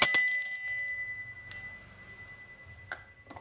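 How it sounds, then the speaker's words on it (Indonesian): A bell rings several times over a few seconds, with bright metallic strikes that ring out and fade into a quiet background. "di sini kita akan memulai dengan ditandai lonceng berbunyi"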